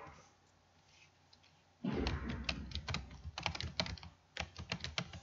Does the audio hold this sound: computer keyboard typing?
yes